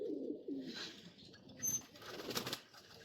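Black-necked racing pigeons make soft, low cooing, mixed with faint wing flutters and light rustling, quiet and close with no talk.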